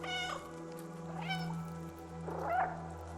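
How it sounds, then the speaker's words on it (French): Several cat meows from the video game Stray, sounding one after another in short, clear calls of varied pitch over a steady low game hum, with no talk. "même les miaulements, je trouve qu'ils sont extrêmement bien faits"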